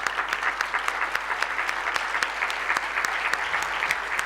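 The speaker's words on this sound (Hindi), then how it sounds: "जोरदार तालियां।" Sustained applause from an audience at an association ceremony honouring long-standing members, dense steady clapping throughout with occasional sharper claps, no talk over it.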